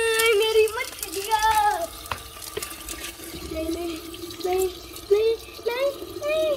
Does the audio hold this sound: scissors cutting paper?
no